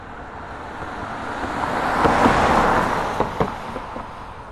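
A road vehicle passes a stereo microphone from left to right, a broad whoosh that rises gradually to a peak midway and then eases off, with a few sharp bumps near the end.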